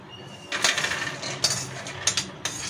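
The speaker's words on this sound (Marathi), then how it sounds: "आता हे शेंगदाणे आपण काढून घेणार आहे" Roasted peanuts being scooped out of a pan, with a cluster of metallic scrapes, rattles and clinks from the spoon and nuts against the metal, close and moderately loud.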